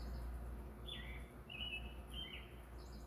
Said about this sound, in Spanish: Los pajaritos alaban a Dios mañana,